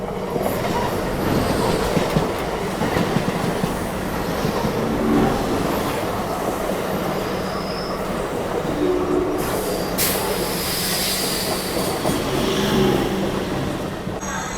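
A Janmabhoomi superfast express train rolling into Begumpet station on the Visakhapatnam to Lingampalli route, a continuous rumbling clatter of wheels on rails with brief squeals and hisses, steady and close throughout.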